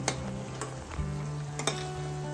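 Crab curry sautéing in a pan while being stirred, a steady close sizzle with occasional sharp spoon clicks against the pan and a low continuous hum underneath.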